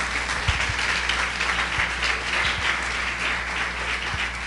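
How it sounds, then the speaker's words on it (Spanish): A church congregation applauds during a Sunday service, with steady, full-room clapping that holds evenly throughout, broken by a few low thumps. "¿Cuántos pueden aplaudir a Dios por eso?"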